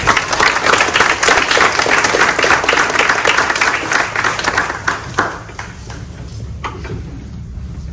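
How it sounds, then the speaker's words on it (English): Graduation audience applauding nursing assistant graduates, loud sustained clapping from a large crowd that thins and fades over the last few seconds into scattered claps and room noise. "So let's give you a round of applause."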